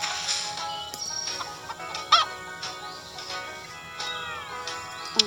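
Chickens clucking in the farming video game Hay Day, a series of close, bright clucks and squawks at irregular intervals, alone without talk.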